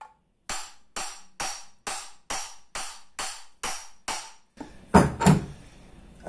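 Nine evenly spaced, sharp light hammer taps on the axle of an e-bike hub motor, close and crisp with short ringing decays, followed by a heavier clatter of metal handling.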